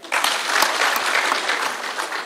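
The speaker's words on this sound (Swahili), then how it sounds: "Pigia hao makofi" A crowd at a public security forum in Kisumu County claps for the leaders, a dense burst of applause that starts abruptly and holds steady for about two seconds.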